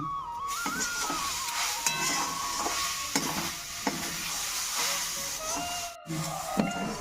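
Amla pickle being stirred in a pan over low heat, with repeated scraping strokes in a steady rhythm over a soft sizzle and hiss, a brief pause near the end, no talking.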